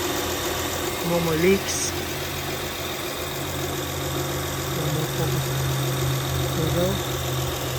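A 2015 Honda Odyssey engine idles steadily with a constant mid-range hum and faint vibration, heard close while someone talks over it.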